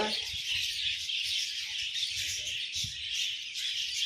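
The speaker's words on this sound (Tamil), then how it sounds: "இங்கே பாருங்க, பெரிய பறவை ஒன்று அங்கே பாருங்க" Birds in a bird park aviary chirp and tweet repeatedly, bright overlapping calls close by against a soft background murmur.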